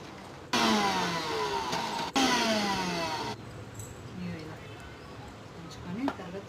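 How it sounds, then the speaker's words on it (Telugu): A mixer grinder whirs through tamarind chutney ingredients in two loud bursts, each starting abruptly with a rising whine, then cutting off to quieter clatter as someone talks throughout. "ఇప్పుడు మిక్సీ పట్టాలి"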